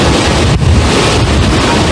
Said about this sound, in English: Second, the wind has picked up.